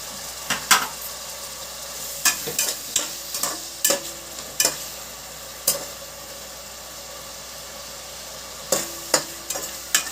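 Onions and green chillies sautéing in a pan, a steady hiss of frying punctuated by a dozen sharp metallic scrapes and taps of the spoon against the pan.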